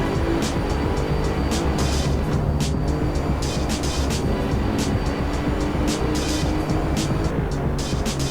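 GT3 race cars, a Nissan GTR and a Mercedes-Benz, battle down the old pit straight at Silverstone in the Assetto Corsa racing game, their engines droning loud and steady throughout with no break.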